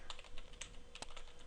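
Quick, light keystrokes on a computer keyboard, about a dozen soft clicks in an uneven rhythm, close but quiet, with no one talking.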